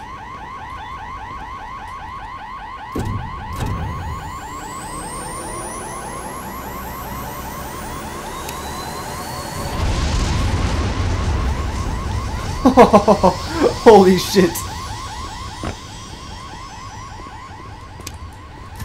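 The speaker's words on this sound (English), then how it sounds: "That alarm is really obnoxious." A loud, obnoxious facility alarm from the video game Black Mesa cycles through changing tones and pitches without pause, while bursts of gunfire and explosions break in partway through and one person curses briefly.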